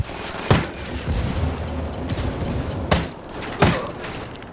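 Sharp blasts from a frag grenade and gunfire in the video game Ghost Recon Wildlands, with three loud bangs a few seconds apart over a steady rumble of combat.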